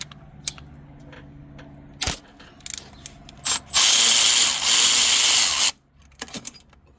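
A throttle-body bolt on a 2003-08 Nissan Maxima is loosened with a power tool, which makes a loud two-second whirring burst after scattered ratchet clicks and tool handling, heard up close with no speech.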